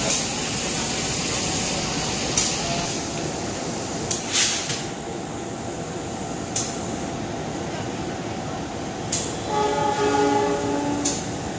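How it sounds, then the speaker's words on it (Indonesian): Vintage-livery locomotive hauling the Singasari passenger train, its engine droning steadily with rolling wheel noise, sharp clanks, and a horn sounding toward the end, loud and close. "saya akan menikmati suara deru mesin dan klakson yang merdu"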